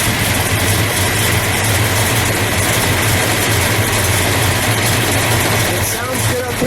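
A 1971 Oldsmobile 442 convertible's 455 V8 engine running at a loud, steady idle, a deep continuous rumble close by with no clear break.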